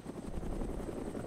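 A Huey helicopter in the survival game DayZ drones steadily with a deep, continuous rotor chop and engine whine, close and loud throughout with no talk.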